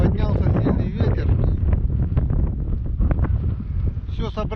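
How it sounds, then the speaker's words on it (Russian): Strong wind blowing by a river, buffeting the microphone with a loud, continuous rumbling roar that swells and dips, with a voice talking over it. "Поднялся сильный ветер."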